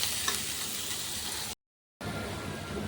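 Soft, steady sizzle of chopped greens stems frying in a pan, faint and continuous, briefly cutting to silence midway before resuming.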